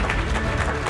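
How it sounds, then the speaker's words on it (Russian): Audience applauding award winners at a business media forum ceremony, a brief dense burst of clapping from a crowd filling the hall. "Ваши аплодисменты победителям приятно."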